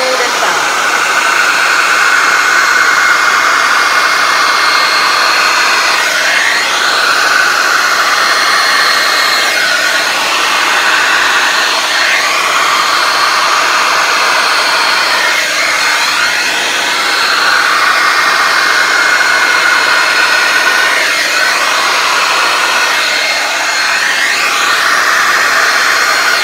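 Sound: hair dryer blowing paint in a Dutch pour

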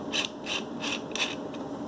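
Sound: portable oudh gas lighter clicking

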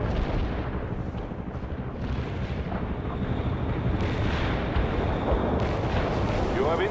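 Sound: artillery strike in World in Conflict video game

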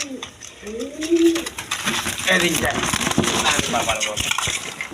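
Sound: pair of red Rasgolla pigeons cooing

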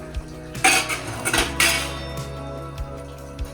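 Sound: dishes being wiped

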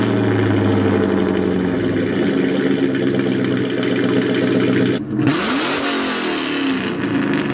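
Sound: V8 car exhaust with off-road X-pipe

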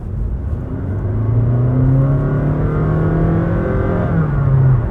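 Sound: hybrid car engine revving

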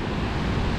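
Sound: ocean waves on a large beach

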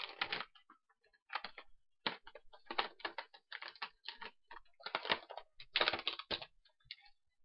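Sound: tearing open the packaging of a bootleg wrestler figure

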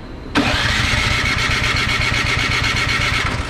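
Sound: Craftsman snow blower engine cranking but failing to start

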